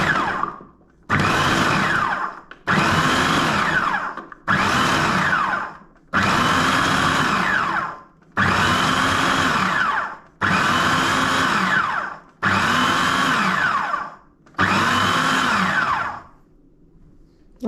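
A Ninja food processor blitzing carrot soup, its motor roaring loud and close in about eight pulses of roughly two seconds each, with short gaps between, then winding down into a quiet hum at the end.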